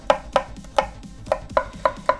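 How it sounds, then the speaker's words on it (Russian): Garlic is sliced finely into half-rings with a kitchen knife, about eight close board knocks coming in a slightly uneven rhythm with a short pause in the middle. "Нам понадобится нарезать весь чеснок"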